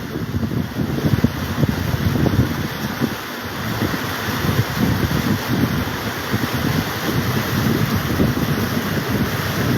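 Waves on the Chenab river wash below a ghat some 10-15 feet down, a steady broad rushing roar mixed with wind buffeting against the microphone, continuous and fairly loud with no voices.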